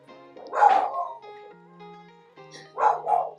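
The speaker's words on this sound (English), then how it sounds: "sorry about the dog barking" A dog barks indoors in two short bursts, the first a cluster of yaps and the second a pair of barks after a quiet pause, fairly close and loud.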